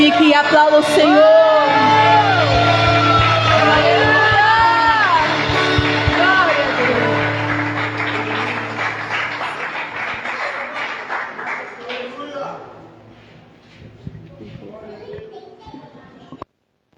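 A church congregation at a worship service cheers and claps loudly, with shouts and whoops over rhythmic applause that gradually fades to scattered voices.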